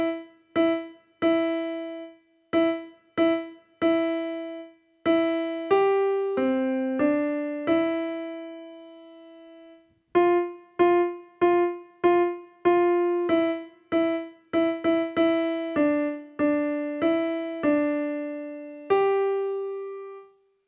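Piano playing two musical lines together in a beginner lesson piece, a series of clear separate notes in rhythmic groups with a brief pause midway, close and moderately loud, no voices.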